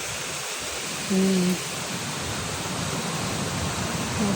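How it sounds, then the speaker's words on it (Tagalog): A creek or river flows in a steady, broadband rushing wash beside a village walking path, constant and fairly close, with a brief low murmured hum from a person near the start. "may maririnig kang ilog dyan"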